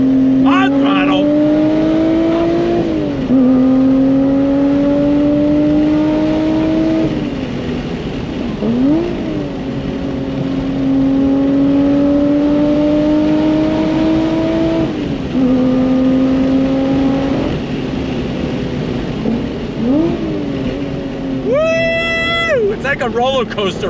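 A Lotus Evora GT six-speed engine revs hard on throttle, pitch climbing through repeated gear shifts, loud and close, with brief dips between each pull.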